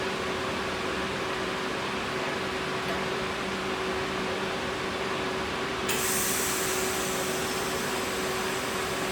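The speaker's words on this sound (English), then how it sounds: "So I'm going to strike the arc, and we're ready to weld." A TIG pipe welding arc is struck with a high-frequency start, a steady hiss and hum that turns sharper and brighter partway through, then holds as a constant electrical buzz.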